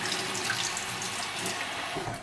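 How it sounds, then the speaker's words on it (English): Cold water runs steadily from a tap into a sink, a continuous hissing splash with no pauses and no voices. "Should I have cold or hot water? I don't even know. This is cold, by the way."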